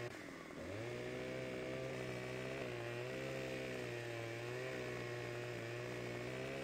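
In Farming Simulator 17 on Xbox One, a chainsaw revs up from a brief idle into a sustained, loud buzzing whine while cutting firewood, holding a steady high pitch with slight wavers under load.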